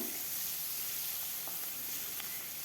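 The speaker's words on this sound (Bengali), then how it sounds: "পেঁয়াজটা দিয়েও কিছুক্ষণ ভেজে নেব যতক্ষণ না কালারটা চেঞ্জ হয়" Chopped onions fry with garlic in hot oil for a Bengali dal, a steady, soft, even sizzle that hisses on without pause or voices.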